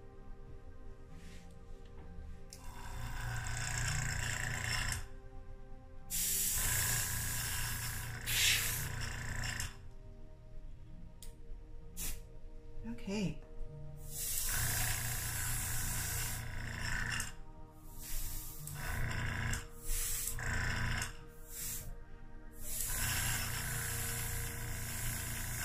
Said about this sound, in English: let's see what my airbrush will do for me today